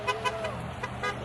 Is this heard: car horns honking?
yes